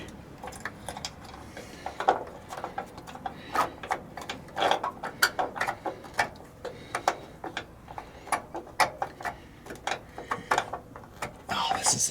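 Ratcheting and clicking from a parking brake mechanism being adjusted on a Bullnose Ford F150, a busy run of sharp mechanical ticks and clunks at close range with some background noise.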